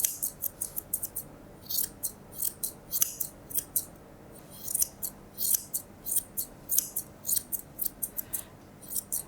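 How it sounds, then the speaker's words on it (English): Scissors trim a poodle's coat in a modern style with rapid, crisp metallic snips in quick bursts, repeating steadily and heard close up with no talking. "popping my scissors on that 45-degree angle and scissoring up to behind his ear"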